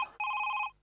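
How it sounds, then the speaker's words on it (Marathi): A telephone rings once in a comedy sketch on a stage show, a short, clear electronic trill lasting about half a second after a brief lead-in, with no talk over it. "आला वसाडीचा फोन आला"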